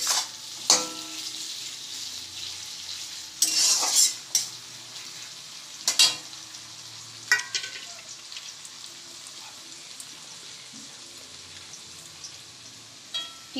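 Chopped tomato and slit green chillies sizzle steadily in a hot pan, with a soft continuous fry broken by occasional louder stirring scrapes and clatters from a spatula, no talking.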